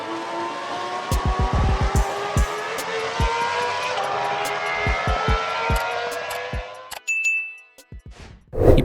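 A Porsche 911 GT3 RS engine screams at very high revs above 9000 rpm, loud and sustained with a bright rising tone. Heavy low thumps keep breaking through, and the sound cuts off abruptly near the end.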